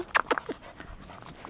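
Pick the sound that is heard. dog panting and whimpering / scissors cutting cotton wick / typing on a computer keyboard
dog panting and whimpering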